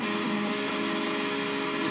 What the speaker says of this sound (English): these heavy, fuzzed out riffs